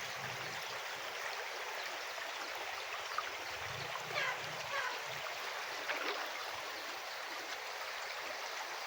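Floodwater rushing around a house during deep flooding, a continuous broadband hiss of flowing water at steady moderate level, with faint occasional splashes and low rumbles underneath.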